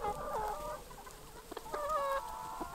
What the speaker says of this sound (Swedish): Hönsen springer runt och betar i det gröna gräset.